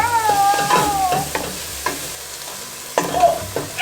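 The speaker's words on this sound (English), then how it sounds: "sauteing the onions" Onions sautéing in a pan for a lasagna meat sauce, sizzling steadily up close while a spoon stirs and scrapes through them in a few bursts, with no voices.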